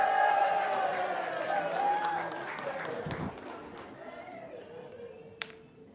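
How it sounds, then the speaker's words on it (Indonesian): Audience applause breaks out at an Indonesian talk event, a dense wash of clapping mixed with crowd chatter and voices that thins out toward the end, with one sharp clap near the close. "Sip, tepuk tangan"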